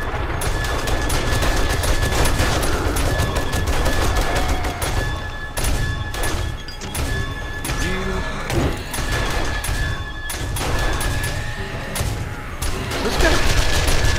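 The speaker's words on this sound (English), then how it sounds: "Shotgun turrets for being a support. And put let the M60 do its work." An M60 machine gun and shotgun turrets firing at a zombie horde in 7 Days to Die, a continuous loud barrage of rapid automatic shots mixed with heavier blasts and crashes across the whole stretch.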